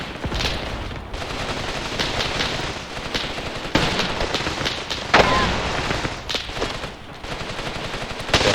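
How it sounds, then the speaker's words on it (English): Machine guns rip in sustained, loud bursts during a Graviteam Tactics battle, a dense rattling stream of rounds punctuated by heavier bangs and short pauses. "the machine guns are now ripping them to pieces"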